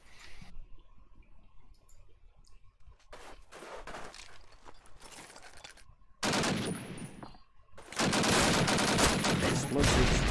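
In a competitive match of the shooter Call of Duty: United Offensive, automatic gunfire comes in bursts, first a short one and then sustained loud volleys near the end, with quieter clicks and movement between.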